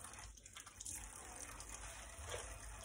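Water runs from a kitchen tap, making a continuous rushing, splashing hiss at moderate level that stays steady throughout, with no speech.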